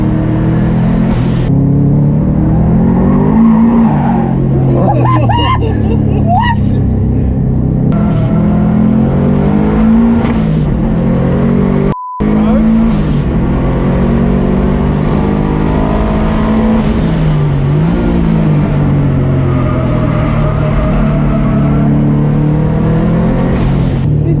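Engine of a built Subaru WRX GC8 pulls at half throttle around a race track, a loud, steady rumbling drone with rising and falling pitch as it revs through gears, close and continuous, with brief excited shouts over it.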